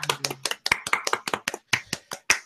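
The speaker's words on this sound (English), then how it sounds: "round of applause for Andrew for getting top 32" A few people clap sharply and unevenly for a tournament player, about a dozen distinct close claps in a short burst with a brief voice at the start.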